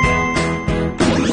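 Call bell on a dinosaur shape and color matching puzzle game being pressed, ringing in several bright metallic dings in quick succession, close and loud, with no voices.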